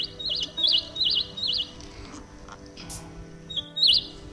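A small bird gives a run of four quick, bright warbling chirps close by, then falls quiet and chirps twice more near the end, over low background rumble.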